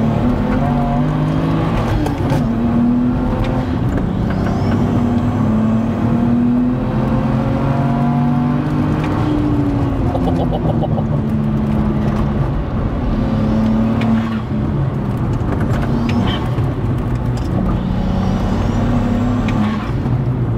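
A manual BMW E92 335i track car making 580 bhp accelerates hard on a circuit, its loud engine drone rising and falling through the gears, close and continuous for about twenty seconds with no speech.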